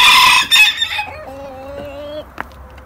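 Chickens near Cochin bantam and Brakel chicks give a loud, close cry that falls into a drawn-out, wavering crow-like call, followed by a brief faint cluck.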